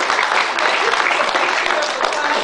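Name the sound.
audience round of applause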